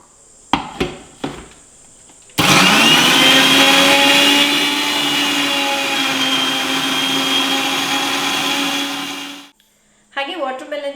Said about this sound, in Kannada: ಕಟ್ ಮಾಡಿರುವಂತಹ ವಾಟರ್ ಮೆಲನ್ನ ಒಂದು ಜಾರ್ಗೆ ಹಾಕ್ಕೊಂಡು ಗ್ರೈಂಡ್ ಮಾಡ್ಕೊಳ್ಳೋಣ.